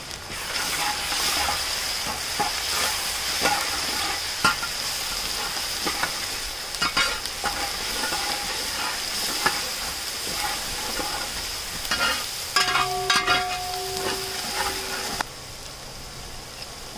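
Crushed ginger and garlic crackle and sizzle in raw coconut oil with mustard seeds and fenugreek, a dense close frying hiss with scattered pops and stirring scrapes, ending with a brief steady hum.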